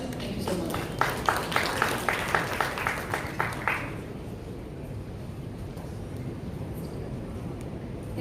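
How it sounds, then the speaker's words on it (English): An audience at a media summit session breaks into applause that swells briefly and fades after a few seconds, leaving a low room hum. "A big round of applause"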